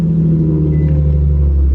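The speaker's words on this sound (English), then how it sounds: "Now let's move this car out of here so we can put in the G35 Coupe." A car engine rumbles steadily at a low idle nearby as the vehicle is moved out of a garage bay, a deep continuous drone without talk.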